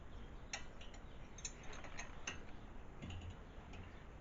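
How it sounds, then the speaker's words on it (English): A wrench ratchets while the rear brakes of a 2007 Honda Civic are being replaced, giving a steady run of small metallic clicks and ticks at close range over faint workshop noise. "Turn that wrench."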